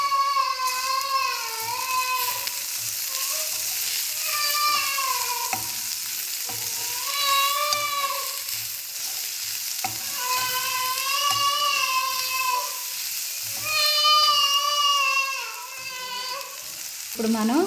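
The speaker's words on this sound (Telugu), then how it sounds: "ఈ ఉల్లిపాయల్లోకి 1 టేబుల్ స్పూన్ పసుపు, అలానే 1/2 టేబుల్ స్పూన్ ఉప్పు వేసుకొని ఒకసారి కలుపుకుందాం." Sliced onions fry in a pan with turmeric and salt and are stirred for a curry-leaf curry. A continuous close sizzle and scraping runs under a wavering melodic tone throughout.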